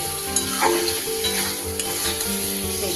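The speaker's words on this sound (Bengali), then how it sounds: "আর একটু কষতে হবে আমার দেখুন বন্ধুরা মশলাটা থেকে আমার তেল ছাড়া শুরু হয়ে গেছে" Spice paste for a vegetarian papad chilli curry fries in oil, a continuous loud sizzle with stirring scrapes and a couple of sharp spoon knocks against the pan.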